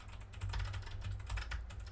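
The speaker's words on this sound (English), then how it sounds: "There we go. Typing." Fast, light clicking from a computer keyboard during game programming, a quiet steady patter of keystrokes with no voice.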